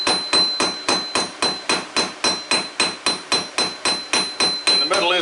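Steady hammer blows ring out on hot steel being forged into a round and flat taper, about three strikes per second, loud and close, each with a sharp metallic clang and short decay, no talk.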